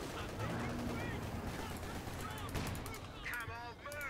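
Rapid gunfire bursts from a World War II battle in the real-time strategy game Company of Heroes 2, playing steadily throughout and overlaid with game voices and effects.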